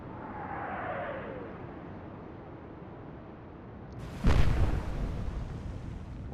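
A naval gun fires in the Atlantic Fleet game during the Battle of the River Plate: a sudden loud boom follows a quiet stretch with a faint descending whistle, then a rumble trails off.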